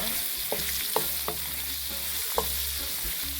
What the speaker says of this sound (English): Okay, so let's add the potatoes. Give it a nice stir